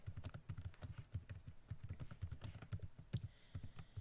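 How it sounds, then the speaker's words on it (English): Rapid, steady typing on a computer keyboard at close range, crisp individual keystrokes clicking in an even rhythm with no talk over them. "I'm just going to type something in here."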